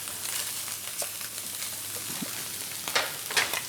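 Meatballs frying in a hot pan, giving a steady soft sizzle with faint crackles and a few small pops and scrapes near the end; no one speaks.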